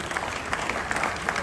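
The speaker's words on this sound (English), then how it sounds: "Can we please clap for him?" An audience at an Anikulapo event claps steadily, a dense burst of many hands applauding together with a faint murmur from the crowd.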